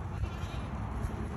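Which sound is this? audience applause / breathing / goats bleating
goats bleating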